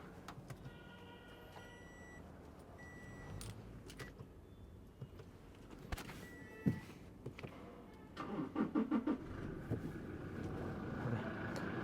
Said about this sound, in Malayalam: അപ്പോൾ ഞാൻ വണ്ടി സ്റ്റാർട്ടാക്കിയിട്ടുണ്ട്